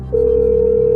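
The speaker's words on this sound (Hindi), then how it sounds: "शुभ्रनील पान को फोन लगाया जाए" Telephone call being placed on a television quiz show, a steady electronic ringing tone starting abruptly and holding loud and unbroken over a low background hum.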